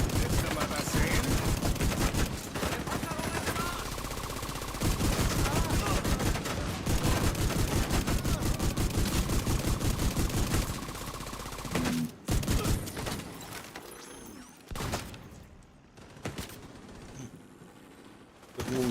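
Sustained automatic gunfire in the video game The Division 2, loud and dense rapid bursts with brief pauses, tapering into scattered shots near the end.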